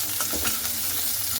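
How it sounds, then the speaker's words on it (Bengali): Onion, green chili and garlic fry in a pan with a loud, continuous sizzle and crackle, broken near the end by a sharp utensil knock. "পেঁয়াজ আর রসুনগুলোকে হালকা করে কিন্তু আমি খুব ভালো মতো ভেজে নিয়েছি"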